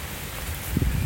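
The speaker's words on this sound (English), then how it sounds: "And it's starting to rain a little harder." Rain starting to fall harder outdoors near honeybee hives during a thunderstorm, a steady dense hiss with soft patter, close and continuous with no voices.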